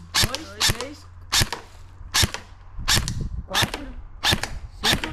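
A series of sharp gunshots fired one after another at a target at a steady pace, about nine loud cracks in five seconds, close by.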